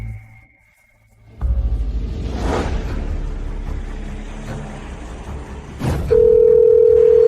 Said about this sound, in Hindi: आपके द्वारा डायल किया गया नंबर अभी उपलब्ध नहीं है, कृपया बाद में प्रयास करें।